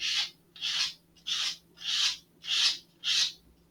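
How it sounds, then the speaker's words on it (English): Six evenly spaced rasping strokes of a sanding block rounding the edge of balsa wood on a model rocket, close up, each a short scratchy swish with brief pauses between. "roll the sanding block over the edge that you want to round"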